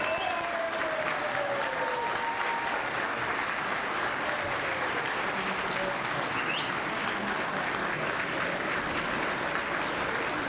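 Sustained, dense applause from a large crowd at a City of Pittsburgh Bureau of Fire graduation ceremony, greeting newly graduated firefighter recruits, filling the space steadily for about ten seconds with a few faint whistles mixed in.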